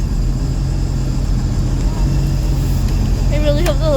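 A 2018 Scarab 165 ID boat runs steadily over lily pads, its loud, constant engine and water rush filling the whole stretch, with a brief voice near the end.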